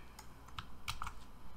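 Keys clatter on a computer keyboard as a command is typed, a few quick, light taps spaced out and heard alone at low volume.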